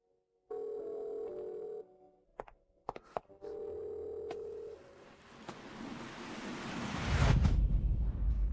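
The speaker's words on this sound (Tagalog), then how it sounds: "Kuya Sheng, hindi ba't ang telepono mo ay tumutunog?" A mobile phone rings with a steady electronic tone in two separate bursts, broken by brief clicks. A rising, rushing wash of noise follows and swells loud at the end.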